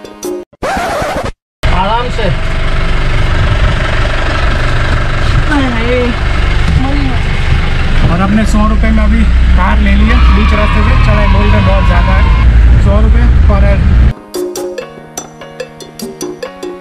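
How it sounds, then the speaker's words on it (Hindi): A jeep climbs the road up to Achalgarh Fort at Mount Abu, its engine a steady close rumble with voices over it before the sound cuts off abruptly. "कार की राइड लेके पहुंच गए हम लोग ऊपर"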